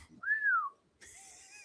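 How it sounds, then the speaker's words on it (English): A person whistles a clear rising-and-falling tone, then after a short pause a second, lower sustained whistled phrase follows, close and fairly loud with no talk. "Hey, homie, you got a good whistle."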